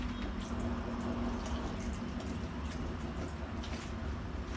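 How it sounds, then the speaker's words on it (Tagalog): Milk pours steadily into a pot of chicken macaroni soup, a continuous soft liquid splash, quiet and uninterrupted, no voices. "lalagay na rin natin yung gatas natin"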